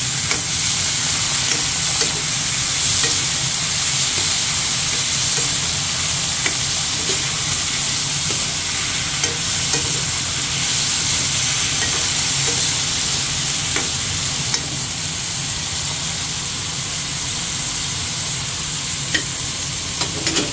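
Chicken caldereta sizzles steadily in a pan, a dense, constant frying hiss with faint crackles running loud and close for the full twenty seconds, with no voices over it.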